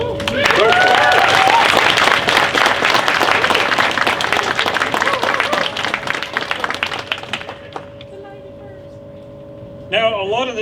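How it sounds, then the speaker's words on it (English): An audience at a 2019 convention's opening ceremony in a hotel breaks into lively applause with some vocal cheering, holding strong for several seconds before thinning to scattered claps, over a steady electrical hum. "everybody deserves a round of applause for all this"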